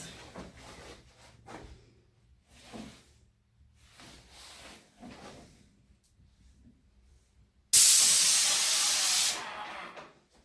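After some quiet shuffling and handling sounds, a Graco 595 airless paint sprayer at 1,000 pressure setting bursts out a sharp, loud hiss close by, holding steady for about two seconds before cutting off.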